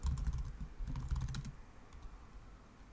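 Computer keyboard typing, a quick cluster of crisp key clicks followed by a second burst, then a few faint taps as the typing trails off in a quiet room.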